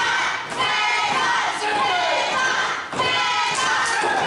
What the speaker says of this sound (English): Selmer, Tennessee cheering for Tavon.